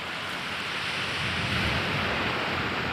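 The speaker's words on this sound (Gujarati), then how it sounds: "આ છે દીવનો દરિયા કિનારો, ઘોઘલા બીચ છે." Sea waves roll in at Ghoghla beach in Diu, making a steady, rushing roar of surf that builds slightly, with no talking.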